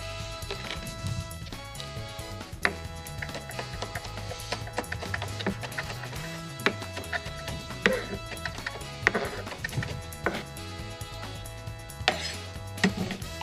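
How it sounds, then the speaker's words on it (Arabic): Garlic cloves being crushed and finely minced, a rapid series of knife chops on a board heard beneath continuous background music. "نرجع ثوم الحب، نهرسها قد ما فينا ونفرمها ناعمة"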